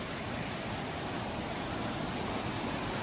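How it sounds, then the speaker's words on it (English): Waterfalls at Cascade Falls, Pembroke, Virginia pour as a steady, dense, hissing rush of water. The roar is constant and unbroken, with no voices. "There are just hundreds of waterfalls."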